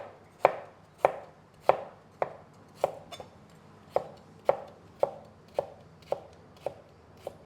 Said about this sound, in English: We want to fine chop that.